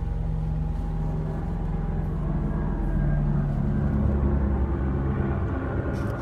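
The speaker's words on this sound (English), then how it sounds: "There's always planes flying over here." Airplanes flying overhead make a steady, low, droning rumble that fills the whole stretch with no break, heard from a backyard shed with no talking.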